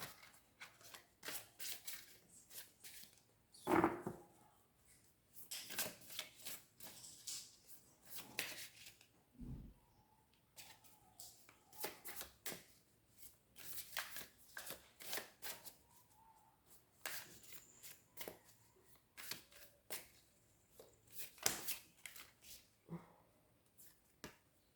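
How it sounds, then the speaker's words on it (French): Playing cards being handled and drawn, giving a long run of soft, close riffling, flicking and sliding snaps in irregular bursts, with no talking over them. "Je prends 2 cartes pour conclure."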